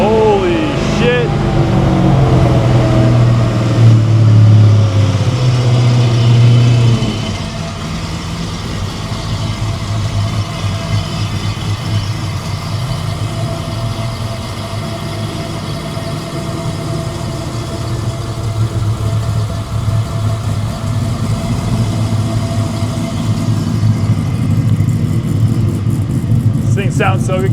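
A classic muscle car fires up on a cold day, with a loud throbbing start that settles into a steady, deep idle rumble lasting throughout, and voices occasionally speaking nearby.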